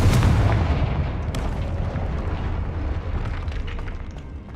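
A loud fire-spell explosion from Hogwarts Legacy bursts out with a heavy low boom, then rolls into a sustained rumbling roar that fades slightly over a few seconds.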